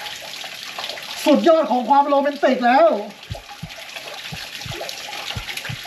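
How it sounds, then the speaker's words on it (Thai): Water runs steadily from a tap into a riverside jacuzzi tub beside the Mekong, a continuous splashing rush that carries on under a voice and then alone. "ไม่มีใครปิดก๊อกแล้ว"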